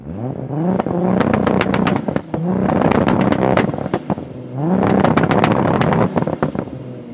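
A loud, tuned sports car engine, an 800hp Nissan GT-R R34 or 900hp Toyota Supra, revs hard in repeated bursts, sharp crackling pops between throttle blips, close by with no talking.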